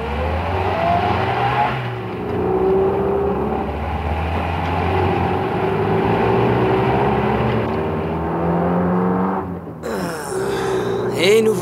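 Cars pulling away on the way to a rocket launch pad, a steady engine drone rising and holding loud and close for about ten seconds, then a brief dip before the motors surge again.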